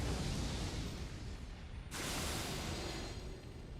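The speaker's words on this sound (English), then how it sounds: "Funny TNT cannons." TNT cannon blasts in the video game Elden Ring, a dense roaring rumble of explosions with a sharp fresh burst partway through, loud and sustained without speech.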